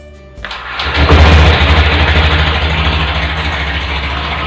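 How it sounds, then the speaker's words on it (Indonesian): A 2020 Honda Beat CBS FI automatic scooter is started with its electric starter: a quiet moment, a brief starter whir, then the engine catches and settles into a steady, smooth idle close by. "Oke, kita akan nyalakan mesinnya. Direm dulu baru di starter ya."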